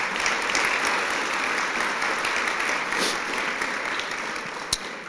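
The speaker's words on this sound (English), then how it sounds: "let's give them a big round of applause" A crowd at a service dog class graduation gives the Mustang Club a big round of applause, steady dense clapping from many people with a single sharp knock near the end.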